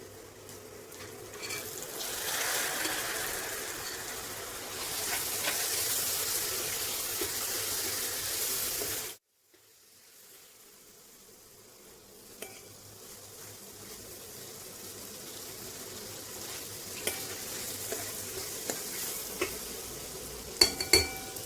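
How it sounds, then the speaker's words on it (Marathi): Soaked chana dal goes into a hot pan and gets stirred, giving a steady sizzle with scraping for several seconds, then a brief hush before quieter sizzling and occasional clinks resume. "यामध्ये आपण चणा डाळ ही रात्रभर भिजत घातली होती ती टाकूया।"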